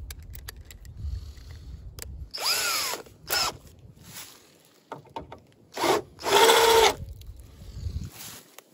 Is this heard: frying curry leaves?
no